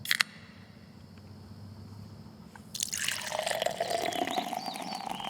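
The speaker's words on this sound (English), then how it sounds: "At Schaefer Orchards, our hard cider is so good, it pours itself." Hard cider pours into a glass after a quiet stretch, starting with a sudden splash and then becoming a steady gurgling fill, close and fairly loud with no talk.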